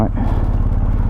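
Motorcycle engine idling close by at a hotel stop on a Wales tour, a steady low rhythmic rumble with pulsing exhaust beats throughout.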